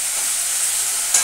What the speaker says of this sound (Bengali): এবার মাছটাকে একটু মশলার সাথে সাঁতলে দিই